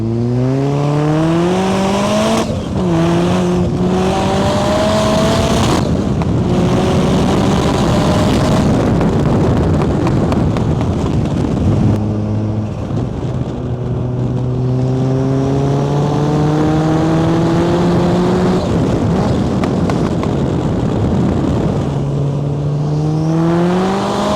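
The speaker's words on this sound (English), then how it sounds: "I think it's about time that we took it out on a little test drive." A turbocharged Mazda on a test drive, its engine loud and up close, revving up through repeated rising pulls with gear changes between them, steady road and engine noise throughout and no talking.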